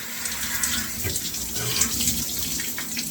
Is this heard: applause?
no